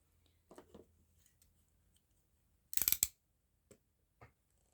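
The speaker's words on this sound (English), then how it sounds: "I'm just going to cut it below this barcode here" Scissors cut through cardboard product packaging just below a barcode: a brief cluster of crisp, rapid snips in an otherwise quiet room, followed later by a couple of faint isolated clicks.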